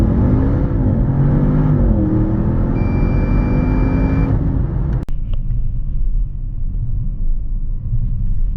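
Audi RS7 Sportback Performance 4.0 V8 with 630 hp rumbling loudly up close, rising in a rev before a sharp click, then settling into a steady deep idle-like drone.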